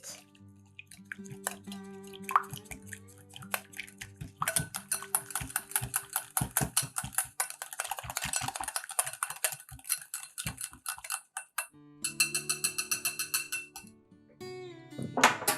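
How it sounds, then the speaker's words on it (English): A whisk stirs vanilla and melted coconut oil in a bowl for keto pumpkin cookies, giving quick clinking and tapping strokes in bursts that pause and resume, over soft background music. "Whisk."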